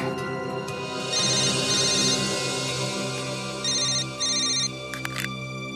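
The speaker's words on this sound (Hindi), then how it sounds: "जब भी सीरियस डिस्कशन होता है तेरा फोन आता है" A phone ringtone plays in a repeating electronic pattern, sounding in two bursts over a steady music bed, fairly loud with no talk over it.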